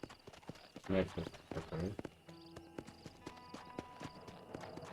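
Horse hooves clip-clopping in the Red Dead Redemption video game, a steady close rhythm of hoof clops under a voice talking briefly, with tonal game sounds following.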